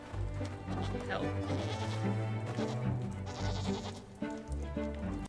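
Goats bleating during a boss fight in the video game Blanc, with several bleats over cute game music. They come in a rhythmic, repeating pattern and are heard alongside the music.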